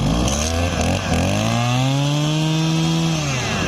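A small two-stroke Kawasaki TH-23 brush cutter engine runs steadily at high revs, its buzzing drone climbing slightly in pitch, close and loud throughout.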